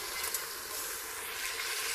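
Tomato paste and dried beans frying in a pan, a steady close sizzle and hiss running evenly throughout with no talk.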